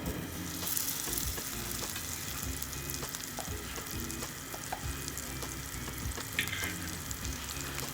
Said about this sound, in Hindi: अब एक अलग फ्राई पैन में 1 से 2 चम्मच देसी घी डालें